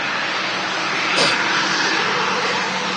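KLM Cityhopper Embraer regional jet arriving from Amsterdam Schiphol at Manchester Airport, a steady broadband engine roar that swells briefly near the middle as it passes, continuous and fairly distant with no talk.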